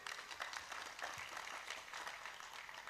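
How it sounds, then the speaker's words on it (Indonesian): Faint, continuous applause from a crowd at an Ansor gathering for a devotional singer, an even dense clatter of many hands for about three seconds. "Tepuk tangan untuk beliau."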